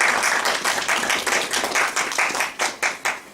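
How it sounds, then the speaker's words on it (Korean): Lecture-hall audience at a university student talk claps in a thin, uneven way, with individual claps audible and the sound thinning into a few separate bursts toward the end, with no talk over it. "큰 박수 부탁드립니다."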